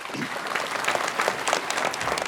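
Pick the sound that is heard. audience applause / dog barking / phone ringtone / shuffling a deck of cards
audience applause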